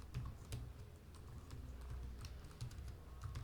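Fast typing on a computer keyboard, quiet and close, with irregular clusters of key clicks and a few heavier keystrokes, no voices.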